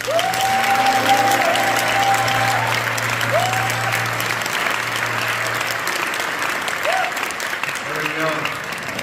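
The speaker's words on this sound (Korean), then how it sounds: "박수해 주시겠습니다" A congregation at a Korean church prayer gathering applauds a speaker, with steady clapping from many hands throughout while someone talks over it and tones sound under it.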